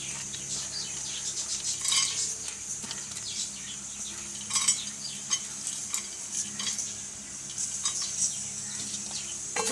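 Whole spices such as star anise and cinnamon are dry roasted in a pan, giving a soft, steady crackle and sizzle with occasional scraping and stirring clinks of a spoon against the metal.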